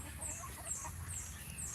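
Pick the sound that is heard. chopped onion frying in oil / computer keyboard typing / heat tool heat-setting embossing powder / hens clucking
hens clucking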